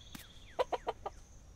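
A chicken in the game Dinkum gives a quick run of four clucks after a short squawk, close and fairly quiet, with no talk over it.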